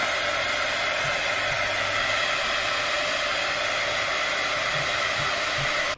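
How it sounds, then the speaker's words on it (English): A heat gun blowing hot air onto the back glass panel of a Samsung Galaxy S10 Plus, a loud constant whooshing roar running without pause through the whole stretch. "we need to use a heat gun like this one"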